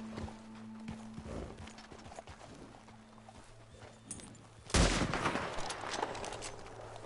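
A single sharp gunshot cracks out partway through, loud and close, over steady outdoor ambience with faint hoofbeats in the video game Red Dead Redemption 2.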